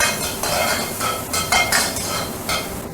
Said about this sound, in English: Then just stir fry the dried chili peppers and Sichuan peppercorns until fragrant